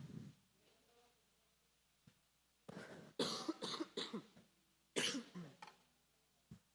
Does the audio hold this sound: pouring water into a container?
no